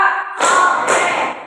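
Students in a classroom ice-breaker clap together twice in quick, crisp succession, loud and close, after a brief spoken cue.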